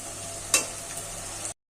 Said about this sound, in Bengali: আদা আর রসুনের পেস্টটা দিয়ে ভালো করে নাড়াচাড়া করে মিশিয়ে দিলাম